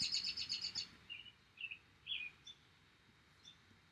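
Wild birds chirping nearby: a quick burst of repeated high chirps, then scattered single tweets that fade out, with no voices.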